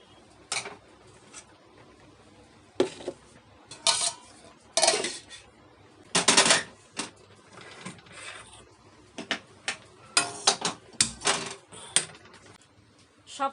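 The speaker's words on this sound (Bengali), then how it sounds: "আর তার সাথে হয়ে যাচ্ছে এখানে মোচাটা কাটা" A knife cuts banana blossom in a home kitchen with irregular sharp chopping bursts and scraping clatter, separated by quiet pauses, close by and fairly loud.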